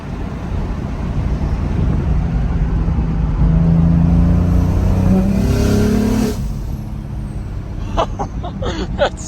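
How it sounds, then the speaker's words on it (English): A BMW F82 fitted with a SpeedTech 6266PT top-mount single turbo revs hard on low boost, a loud rising engine and turbo roar for about six seconds that then drops to idle as faint voices speak. "that turbo sounds wild"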